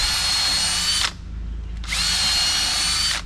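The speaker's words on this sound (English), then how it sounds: "I'm gonna screw the outside here while I got it." Power drill drives screws into deck wood, two long bursts of steady high whine close by, each running about a second or more with a short pause between, no talking.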